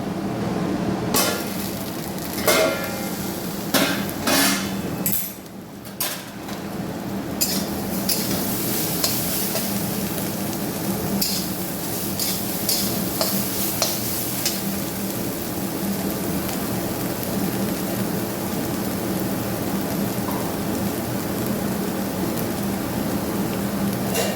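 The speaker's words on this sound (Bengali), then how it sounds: "চাপা দিয়ে দিলাম, সুন্দর ভাজা হয়ে যাবে, নরম হবে, সিদ্ধ হবে।" Banana stem fries under a lid with mustard seeds, a continuous muffled sizzle broken by sharp knocks and clatters of the lid or utensil in the first few seconds, then a steady hiss with no talk.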